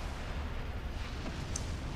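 A tank's heavy cannon firing in the Prototype video game, heard as a dense, sustained low rumble of booming blasts with no clear pauses and no talk.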